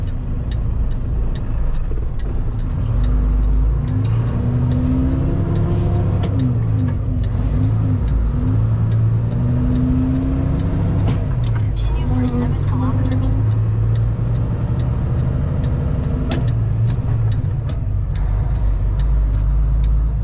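A heavy road train truck engine laboring uphill in low gear, a steady loud diesel drone with shifting harmonic whine running continuously throughout, with someone talking over it much of the time.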